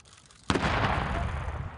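A landmine detonates at a live minefield clearance site in Angola: one sharp, loud blast that rings out and decays into a long, rumbling tail, preceded by quiet.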